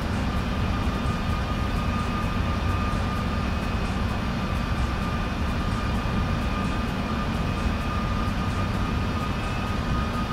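The simulated engine roar of a Boeing 747-400F landing in the Prepar3D flight simulator, a dense, constant, loud rumble with a steady tonal whine over it and no change across the clip.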